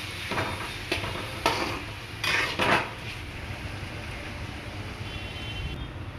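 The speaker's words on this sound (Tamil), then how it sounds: "இப்போ நம்ம ஆனியன் ஆட் பண்ணுறோம். நல்லா கிண்டி விட்டுக்கலாம்." Onion being stirred into ginger and garlic in a hot pan for homemade fried rice gives a soft, steady sizzle with a few bursts of metallic scraping and clattering utensil contact early on.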